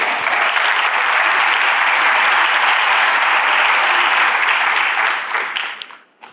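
A church congregation breaks into loud, sustained applause during a Portuguese-language service, many hands clapping densely and evenly before the sound thins and dies away at the end.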